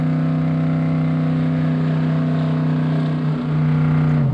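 A street van's engine drones steadily with a strong low hum as it drives and accelerates on the highway, loud and continuous, with a slight dip and shift in pitch near the end.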